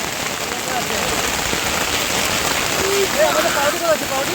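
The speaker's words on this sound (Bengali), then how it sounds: "চারিদিকে পুরো বৃষ্টি দূর পর্যন্ত একদম একদম জোরে নামছে ঝমঝমিয়ে" Heavy rain pours down in a dense, unbroken roar of hiss, with faint voices briefly surfacing underneath.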